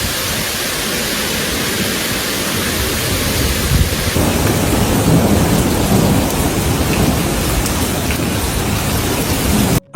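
A thunderstorm over Phoenix, Arizona, with rain and hail: a loud, unbroken roar of heavy rain with deep thunder rumbling under it. The sound cuts off abruptly at the very end.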